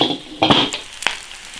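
Beef ribs, potatoes, onion and dried chillies are stir-fried in a large iron wok, with a few sharp scraping strokes of the spatula over a soft sizzle.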